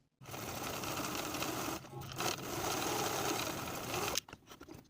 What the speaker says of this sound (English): We're going to stay stitch with a 5/8 inch seam allowance